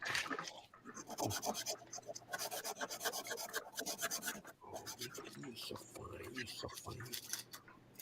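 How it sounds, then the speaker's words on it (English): Sandpaper rasps back and forth on a surface in quick rhythmic strokes, close and fairly quiet, with a low hum underneath and soft speech at moments. "I wish I had better sandpaper."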